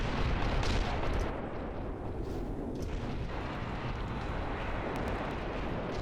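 Bolter guns and hotshot lasguns fire in a Warhammer video game, a dense, continuous roar of gunfire and rumbling blasts, louder at the start and then steady, with no talk over it.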